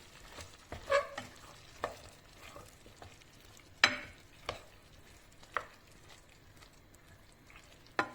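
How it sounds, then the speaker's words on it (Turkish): Liver pieces stirred and fried in about two tablespoons of cooking oil for a liver maklube, with a soft steady sizzle under scattered scraping clacks of a spoon against the pan. "Yağ ile birlikte ciğerlerin kavrulmasını sağlayalım."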